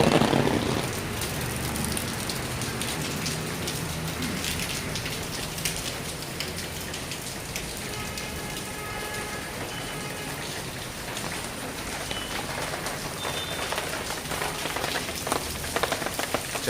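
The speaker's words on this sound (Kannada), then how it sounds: "ಮಳೆ ಬರ್ತಾ ಇದೆ." Steady rainfall from a lingering cyclone pours down in a continuous broadband hiss of drops hitting surfaces, loudest at the start and then even throughout, with no voices.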